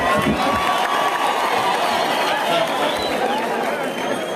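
A crowd cheering and shouting loudly throughout at a Kenya Kwanza political rally in Kenya, with scattered clapping mixed into the steady roar of voices.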